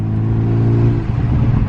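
A BMW F30 with an upgraded boost pipe accelerating in sport mode, a loud close engine drone that rises in pitch and grows rougher and more rumbling toward the end.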